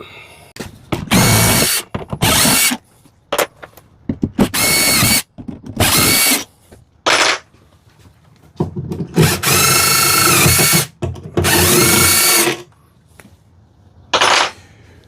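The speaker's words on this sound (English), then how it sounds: "Now we just got to take the main mounting bolts out." A power drill or impact driver backs out the main mounting bolts of a rooftop RV air conditioner during replacement, firing in about a dozen loud, close whirring bursts of varying length separated by short pauses.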